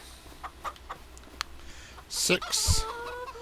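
Chickens in the Farming Simulator 25 video game clucking and squawking, a few soft clucks followed by a louder sharp burst of squawks near the end, over a faint game background.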